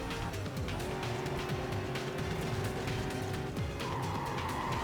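Pontiac GTO driven in the video game Need for Speed Carbon, a steady loud engine drone with rising pitch and tire noise, continuous throughout with no talk.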